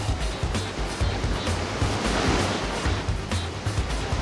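Ocean waves from a Roblox video game, a steady broadband wash of surf with rolling low swells, continuous and fairly loud throughout.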